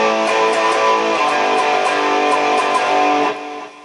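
An electric guitar plays the chorus riff of the Viva La Bam theme, a sustained, dense, bright tone with steady harmonics ringing loud and alone for about three seconds before fading.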